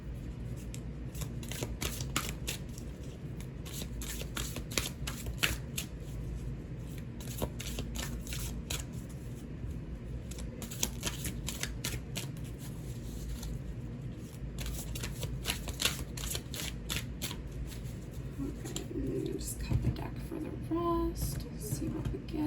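Tarot cards from a Dolly deck are shuffled and spread by hand, giving a steady close riffling and sliding sound with soft taps throughout.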